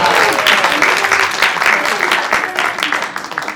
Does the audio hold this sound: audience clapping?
yes